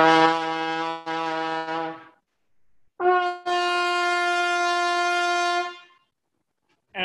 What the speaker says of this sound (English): We can do the same thing, but go down to a G instead of a C.